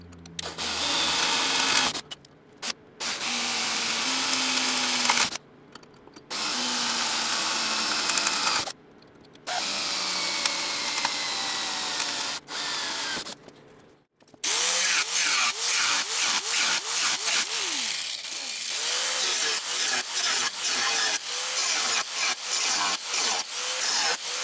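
Power tools work metal in bursts: several separate stretches of rough, grinding cutting broken by short silences, followed by a longer, continuous run of rapid, rhythmic rasping, close and loud with no voices.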